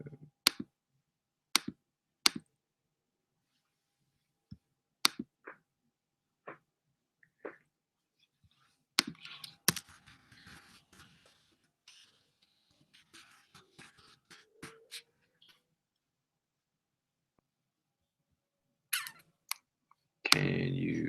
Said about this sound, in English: So Andy, because you can hear typing